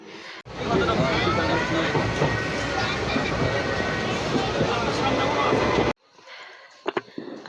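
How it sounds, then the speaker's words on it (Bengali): A train roars loudly and steadily close by, its rumble filling the air for several seconds before cutting off to quieter background clatter. "শেষে আইলো ট্রেন কিন্তু দুই ট্রেনের মানুষ এক ট্রেন হচ্ছে"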